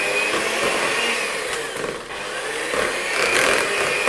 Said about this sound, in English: And slowly we're going to mix them up.